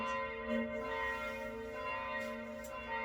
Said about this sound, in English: Those church bells helping you really becoming present.